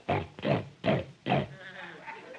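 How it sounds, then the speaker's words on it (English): Water buffalo snort performed as a jungle sound effect in an old-time radio comedy, four loud, grunting bursts in close succession followed by a softer, rumbling tail, heard alone without talk. "the snort of the water buffalo"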